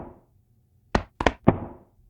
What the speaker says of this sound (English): The next sound is just me hammering on my chest